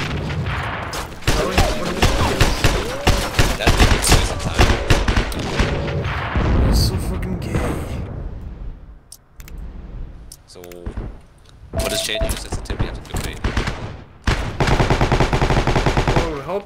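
Bursts of rapid gunfire and machine-gun fire crackle loudly in Heroes & Generals, dense at first, then thinning into sporadic shots and clicks, with someone talking over and between the shooting.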